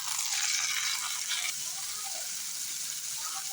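Onions and tomatoes sizzle in a pan for an okra stir-fry, a steady hissing fry that is loudest at first and then settles into a softer crackle.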